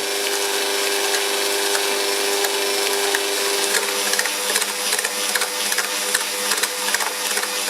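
Electric hand mixer beating cheesecake batter as sugar is added, a steady loud whirring drone with rattling, scraping texture that runs alone throughout.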